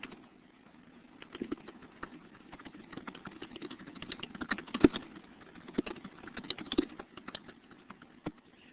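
Keys clatter on a computer keyboard in quick, uneven bursts of close clicks at moderate level, typing steadily through the stretch with small pauses and no talking.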